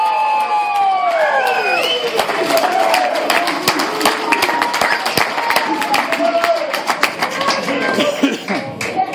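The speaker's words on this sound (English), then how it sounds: "let's have a nice round of applause for our best man" Wedding guests clap and cheer for the best man, scattered sharp claps and whoops over lively crowd chatter, loud and close throughout.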